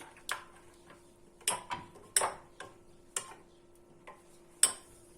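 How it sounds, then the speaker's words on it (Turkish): Sauce being stirred in a bowl with a spoon, a series of sharp clicks and taps against the bowl in an uneven rhythm, close and fairly quiet, with no talking. "Sosumuzu karıştırıyoruz."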